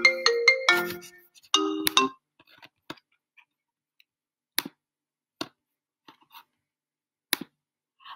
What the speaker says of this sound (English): my phone went off there and then through my laptop